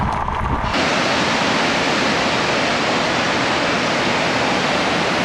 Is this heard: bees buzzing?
no